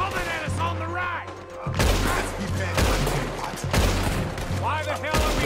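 A shootout in Red Dead Redemption 2, with a dense fusillade of rapid gunshots and bursts over shouted voices and background music, loud and close throughout.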